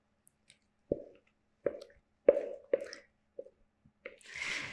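Thick avocado bread batter dropped into a paper-lined loaf pan gives a series of soft, wet plops and squishes at irregular intervals, close and fairly quiet, ending in a brief rustle of the baking paper.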